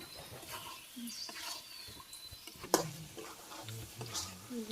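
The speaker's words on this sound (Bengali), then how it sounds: "এই মাংস কষানো হয়ে গেছে, এখন ঝোল দিয়ে দিই আবার" Meat and masala being sautéed in a pan, with faint low stirring and scraping, a soft sizzle and one sharp knock against the pan.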